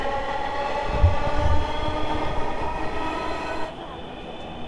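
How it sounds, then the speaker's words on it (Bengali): Dhaka metro rail train pulling away from Uttara North elevated station, a steady mid-level rumble with tonal motor whine that holds and then drops off near the end as the train recedes. "আপনারা দেখতে পাচ্ছেন যে মেট্রো রেলটি এই স্টেশন উত্তরা নর্থ স্টেশন থেকে ছেড়ে চলে যাচ্ছে"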